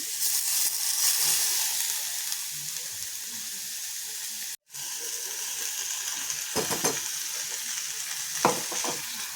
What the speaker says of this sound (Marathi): कांदा थोडा परतला गेला की आपण त्यात टाकूया आपली कांदा टमाट्याची प्युरी